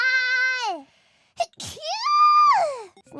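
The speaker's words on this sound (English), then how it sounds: "Sneeze of sadness." Sneeze sound from a streamer's double sneeze, a short sharp burst in the middle framed by high wailing, moaning vocal sounds before and after, close and clear.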